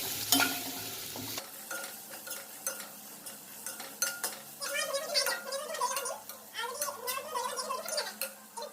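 Spiced aloo papad curry being stirred in a pan with a spoon, repeated scraping and clinking against the metal over a soft sizzle of frying, with a voice talking quietly at times.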